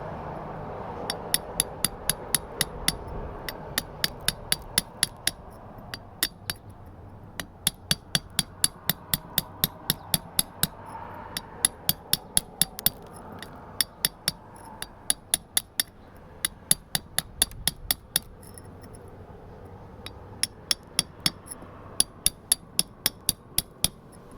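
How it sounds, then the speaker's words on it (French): A hammer tapping on an old granite nodule to free fragile sunstones, giving sharp, bright clinking strikes in quick irregular bursts, close and distinct over a quiet background for the whole stretch, with no talking. "On va essayer de venir tout doucement frapper par le dessus pour aller enlever comme ça avec le marteau"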